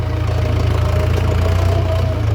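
Tractor engine running steadily at close range, a loud continuous low throbbing drone with a regular pulse and no pauses, alone without talk.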